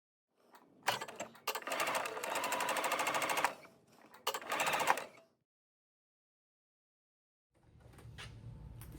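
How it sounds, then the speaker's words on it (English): Sewing machine basting a quarter-inch pleat on a maxi jogging skirt, close rapid stitching in two bursts with short pauses between, then a few seconds of quiet before faint handling sounds. "So I'm going to be basting our pleat down just about 1/4 inch so I don't have to pick it out later."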